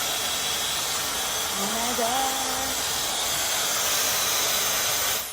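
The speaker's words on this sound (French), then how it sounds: "Donc là c'est l'embout sèche-cheveux. Vous voyez, je vais le mettre en marche" A hair-dryer attachment on a hair styler runs steadily with a loud, constant airy whoosh, close by, cutting off at the end.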